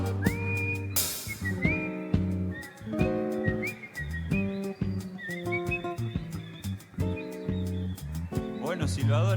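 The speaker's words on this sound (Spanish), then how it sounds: "Buenos silbadores." Several people whistle a folk tune together over accordion-led music, the melody carried in steady sustained notes with an accordion backing throughout.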